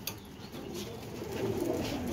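Soft, low cooing from tumbler pigeons rises gently over a quiet background, a short murmuring call near at hand.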